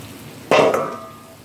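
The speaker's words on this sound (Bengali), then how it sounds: "এখন এই যে করলাগুলো ঢেলে দিচ্ছি" Bitter gourd slices poured into a hot pan, a sudden close clatter and splash that settles into a softer fading sizzle.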